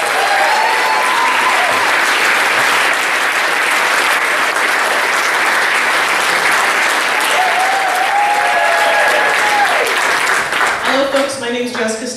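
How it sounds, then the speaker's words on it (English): Sustained applause from a large comedy show crowd, steady and loud throughout, with a few whoops rising over it near the end. "And let's keep it going for your next comic, Jessica Stefusion."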